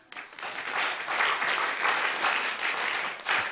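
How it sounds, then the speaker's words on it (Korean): A room full of people applauding at a Sunday morning church service, a steady wash of clapping that swells and holds for a few seconds, with no speech over it. "박수 한번 쳐주세요"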